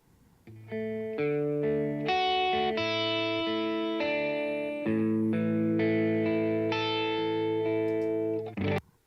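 A clean electric guitar plays a steady arpeggiated pattern, notes ringing one after another in an even rhythm, heard alone.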